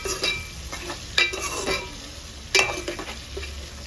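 Gongura leaves cook in oil for a pickle, a loud close sizzle running throughout while a spoon stirs and scrapes the pan in several bursts, with no talking.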